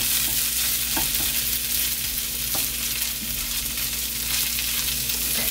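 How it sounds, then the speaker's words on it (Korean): Gwamegi, dried herring, pan-fries with seasoning in a steady, close sizzle, with occasional soft scrapes and taps as the fish is pressed and turned, and no voices. "양념과 함께 살짝 앞뒤로 한 번만 구워주면 다 됐습니다."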